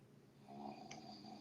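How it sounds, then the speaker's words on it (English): A person snores once, a soft, faint rasping breath heard alone against quiet room tone. "for one, I hear snoring"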